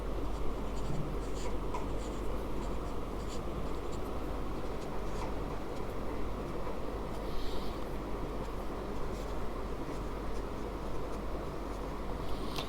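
A pen writing out a math solution, a continuous close scratching of strokes on paper that runs for several seconds with no voice over it.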